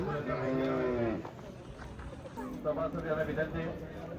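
Khillar bulls at a bullock cart race venue give a long, deep moo close by, and a second moo follows later, with people talking nearby.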